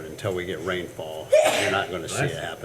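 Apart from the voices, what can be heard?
sneeze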